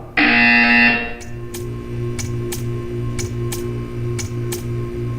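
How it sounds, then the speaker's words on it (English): A loud, steady electronic buzzer sounds for under a second in a Portal 2 test chamber, followed by a quiet hum and a series of evenly spaced soft ticks. "When you hear the buzzer, stare at the art."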